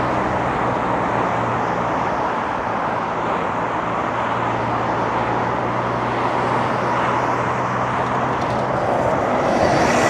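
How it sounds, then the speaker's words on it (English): A GO Transit bus rolls by in steady street traffic on Yonge Street in Toronto, its engine a continuous low drone blended into loud, constant roadway noise from nearby cars. "There's a go bus."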